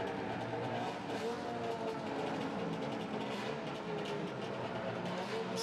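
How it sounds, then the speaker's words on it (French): A small race car engine revs continuously at a distance at the Le Mans Classic 2018 race, a busy, roaring wash of motor noise with no clear breaks. "C'est bien des bruits de voiture que vous entendez."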